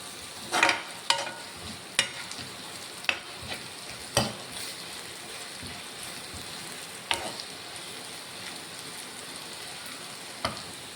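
Chicken fries in a pan with a steady soft sizzle while a utensil stirs it, giving sharp scraping knocks at irregular intervals, close by and with no talk.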